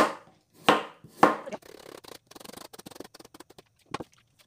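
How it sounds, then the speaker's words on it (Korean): A knife slices cucumber on a cutting board for a chilled acorn jelly soup, with a few heavy chops at first and then a quick run of light, even taps that ends in one last cut. "이건 오이를 좀 썰어줄게요"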